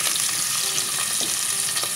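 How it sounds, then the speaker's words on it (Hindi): Chopped onions fry in hot oil until light brown for a dhaba-style chana bhatura curry, giving a steady, close sizzle with light stirring scrapes and no talking. "गर्म करके इसके अंदर हम ये प्याज डाल देंगे और इसको लाइट ब्राउन होने तक फ्राई करेंगे"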